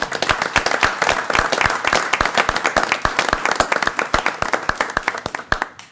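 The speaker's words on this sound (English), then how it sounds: "And let's give them a round of applause" A room at a city council meeting breaks into a round of applause for children and their parents, steady overlapping hand claps at close-to-middle distance, continuous for several seconds with no talking.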